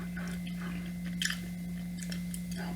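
Close, soft wet chewing of gum in a quiet room, with continuous rhythmic mouth clicks and squishes over a steady low hum.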